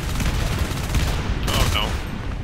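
Rapid gunfire bursts in the video game Natural Selection 2 as grenade launchers come into play, sharp repeated shots within a noisy battle mix alongside game alerts.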